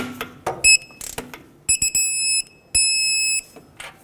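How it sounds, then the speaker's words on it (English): A torque wrench with a deep 13mm socket tightens a starter bolt to 18 foot-pounds on a 2009-2014 Ford F-150 with the 5.4L V8. A few sharp ratchet clicks are followed by several loud, steady electronic beeps, close up and with no talking. "I'm gonna grab a deep 13mm socket, and let's go to 18 foot-pounds."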